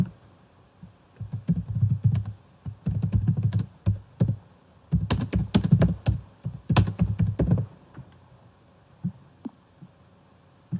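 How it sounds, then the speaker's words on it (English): Bursts of computer keyboard typing, close and fairly loud, clustered into several rapid runs of keystrokes with short pauses between, then a few isolated taps near the end. "We'll type in something like, sorry James, I don't know."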